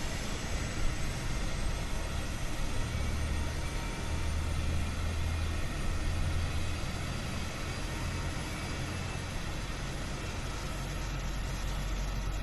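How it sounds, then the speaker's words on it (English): Boeing 777-300 engines spool up in Microsoft Flight Simulator 2020 (PMDG), a steady, loud, dense roar with deep low rumble that holds evenly from start to finish with no talk. "Listen to that big old engine coming on."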